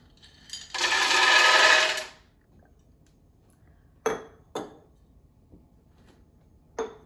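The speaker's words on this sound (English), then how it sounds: "so in goes my pistachios" Shelled pistachios pour into a Vitamix blender container for nut butter, making a dense rattling rush of about a second and a half, followed by a few isolated sharp clinks and taps close by.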